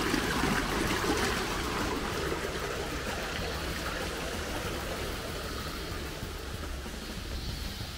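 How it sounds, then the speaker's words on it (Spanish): A natural waterfall on the Coco River rushes in a steady, broadband roar of falling and splashing water, close and continuous throughout with no talking. "tenemos esta cascada que es natural, que me llama mucho la atención"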